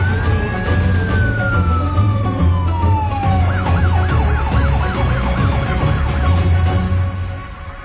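A police car siren wails loud and close, first a long falling sweep, then a rapid warbling yelp that repeats steadily, over a low rumbling traffic bed.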